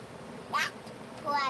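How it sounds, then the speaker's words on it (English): A squeaky rubber duck toy gives two short, high-pitched squeaks about three-quarters of a second apart, faint over a quiet indoor background hum. "She's sharing Squeaky Duck with him right now."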